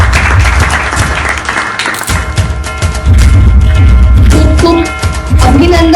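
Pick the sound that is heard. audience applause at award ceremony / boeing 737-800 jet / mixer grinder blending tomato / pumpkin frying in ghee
audience applause at award ceremony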